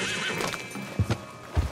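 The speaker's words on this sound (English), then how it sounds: "And this here is Old Father Time." A horse in Red Dead Redemption 2 neighs and snorts in short bursts, near and clear, with a low steady game ambience behind it and no talk.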